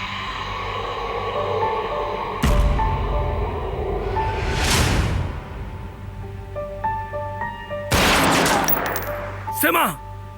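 Gunfire in a Bangla-dubbed Turkish drama scene, with sharp loud bursts around the middle and a heavier volley near the end over a tense music bed, amid shouting and talk.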